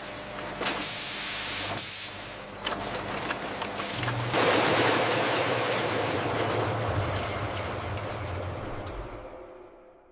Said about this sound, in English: Before filling, bottles are rinsed internally.